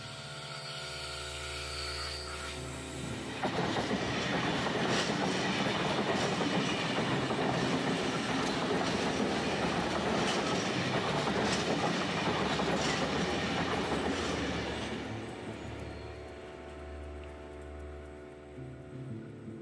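Sydney Trains passenger train moving through a station, steady loud rumble with clickety-clack of wheels swelling for several seconds then fading, no talking.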